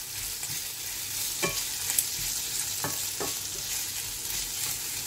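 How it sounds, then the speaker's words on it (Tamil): Prawns and chicken sauté in a hot pan for noodles, a constant close sizzle broken by several sharp spatula scrapes and stirring knocks, no voices. "இந்த எரா நல்லா சிவக்கிற வரைக்கும் வதக்கிட்டு"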